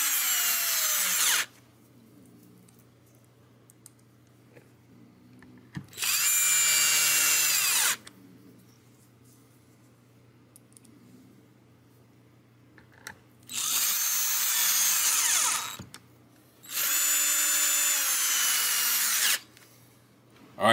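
A power drill drives new screws into an American-made Fender Telecaster, whining in four loud bursts of a few seconds each, separated by quiet pauses with faint handling noises, close up and without talk.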